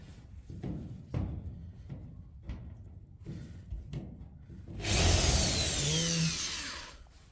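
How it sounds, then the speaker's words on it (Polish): A power drill starts in several short, scraping bursts, then runs for a couple of seconds in a loud, sustained whine as it bites into the sheet steel of a metal garage. "Mam nadzieję, że uda się tym bez problemu wywiercić."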